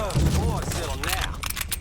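Gunfire in the Mafia 3 video game, a burst of shots and heavy impacts over shouting voices and dramatic sound, loud and close.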